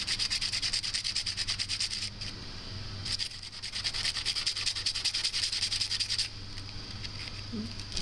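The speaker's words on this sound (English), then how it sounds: "we'll go ahead and get this all sanded on the sides first and everything" Sides of a PVC pipe flute sanded by hand in steady, continuous back-and-forth rasping strokes, close and fairly loud, pausing briefly twice before resuming with a low hum underneath.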